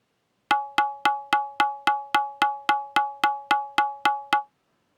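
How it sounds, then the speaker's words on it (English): A sampled tabla stroke repeats as evenly spaced eighth notes, thirteen bright pitched hits in a rigid mechanical rhythm, each decaying quickly, alone and fairly loud against silence. "this time we will use a tabla sample, which is a percussion sound, and I will play it at a 1/8 note"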